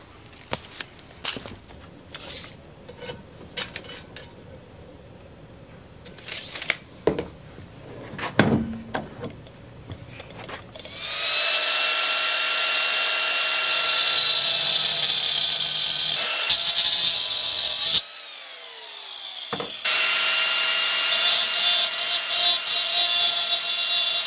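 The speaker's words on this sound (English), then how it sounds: "so let's shorten this piece of pipe now" Power tool cutting a steel pipe shorter for a fence post driver, loud sustained grinding-cutting noise running steadily for roughly thirteen seconds with one brief pause, preceded by scattered clanks and handling sounds.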